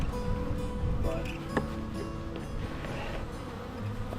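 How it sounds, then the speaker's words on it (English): Bees buzz around an open beehive box in a mid-April apiary, a steady dense drone that holds throughout at close range, with faint handling knocks. "if you have a lot of bees in the box, just bang them out on the ground"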